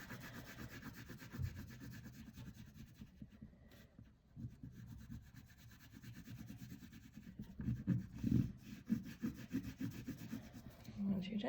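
A fingertip rubs oil pastel into paper, making a soft, faint, continuous scrubbing sound with short swells of louder rubbing toward the end.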